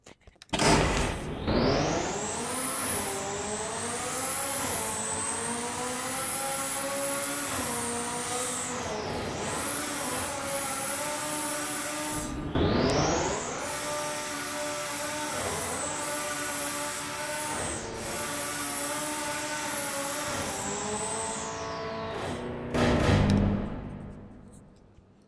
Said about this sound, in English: what we have here is a Ferrari Testarossa. Another flat 12 engine.